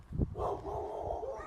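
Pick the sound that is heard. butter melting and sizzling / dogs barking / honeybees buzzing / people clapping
dogs barking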